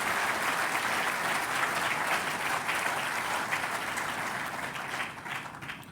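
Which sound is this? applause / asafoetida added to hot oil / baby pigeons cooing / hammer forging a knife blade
applause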